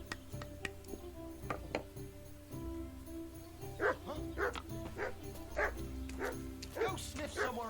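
In the video game Kingdom Come Deliverance 2, a dog barks on command: several sharp, evenly spaced barks ring out over steady game ambience and faint background music.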